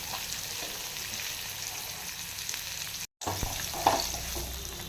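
Ginger, asafoetida, curry leaves and cashews fry in a tempering for ven pongal with a steady close sizzle, light stirring scrapes and one brief dropout.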